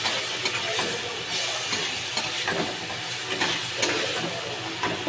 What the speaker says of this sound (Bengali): এটা আমি ধিমে আছে ভালো করে একটু কষে নেব